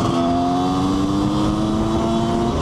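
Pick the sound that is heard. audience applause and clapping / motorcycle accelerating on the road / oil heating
motorcycle accelerating on the road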